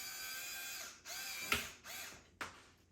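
Small handheld screwdriver turning a tiny screw into a handle, a continuous whirring drive broken by two sharp clicks and a brief stop, close up and alone.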